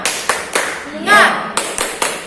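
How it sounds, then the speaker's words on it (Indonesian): Children at a Sunday school Christmas service clap a cheer rhythm: several sharp, evenly spaced claps with a brief chanted voice in the middle, close and fairly loud. "kita tepuk semangat dulu ya"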